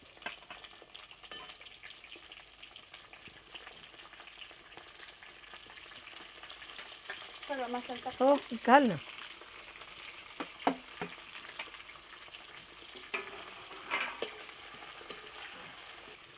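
Masala-stuffed brinjals drop into hot oil in a kadhai over a wood-fire chulha, bursting into a loud sizzle partway through that settles into steady frying crackle, with a brief spoken exchange.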